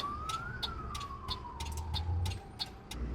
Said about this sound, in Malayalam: ഒരു ആംബുലൻസ് വരുന്നുണ്ട് കയറിപ്പോട്ടെ